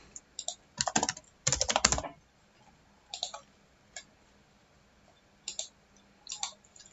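Computer keyboard typing while entering an email address on a website form, in quick bursts of clicking keystrokes with a dense flurry early on, then shorter scattered groups of taps at close range.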